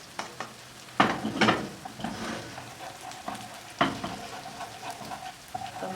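Meat caramelizing in a pan with milk added, heard as a soft, constant sizzle. Sharper crackles and stirring scrapes break through now and then.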